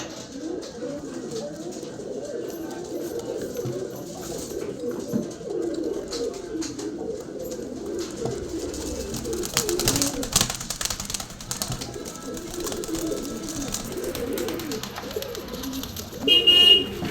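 Guldar pigeons, a male among them, coo in a soft, low, continuous murmur close by, with a brief sharper sound near the end.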